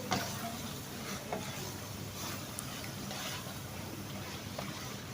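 Masala roasting and being stirred in a pan for restaurant-style chicken biryani, a steady close sizzle with soft scraping from the stirring, continuous and even throughout.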